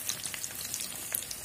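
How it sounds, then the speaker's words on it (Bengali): Samosas and puri frying in hot oil, a dense close sizzle with bright crackling pops throughout, no voices over it. "সবসময় ভাজা সিঙ্গারা ভাজার কাজটা ওই করে"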